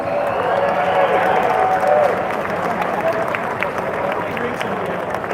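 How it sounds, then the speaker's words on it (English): A crowd at a food competition awards event applauds in a continuous dense wash of clapping, with voices and cheering mixed in underneath. "You should give each yourselves a round of applause."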